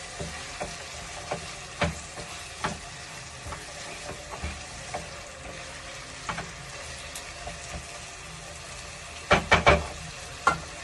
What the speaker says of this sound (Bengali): এবার এগুলোকে একটু ভালো করে ভেজে নেবো।